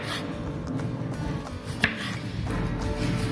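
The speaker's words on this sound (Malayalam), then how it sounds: "വട്ടത്തിൽ നമ്മൾ ഉപ്പേരി കരിയുന്ന പോലെ അരിഞ്ഞെടുക്കുക." A knife slices bitter gourd into thin rounds for chips, making soft repeated cuts against a board with one sharper knock midway, close and alone without talk.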